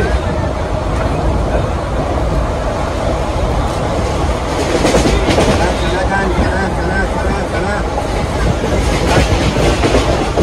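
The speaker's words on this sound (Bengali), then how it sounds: "আমাদের ট্রেন এখন উলুবেড়িয়াতে ঢুকছে।" A passenger train on the Kolkata to Digha route (03161) enters Uluberia station, heard from on board as a loud, steady, close rattle and rumble of carriages on the rails throughout.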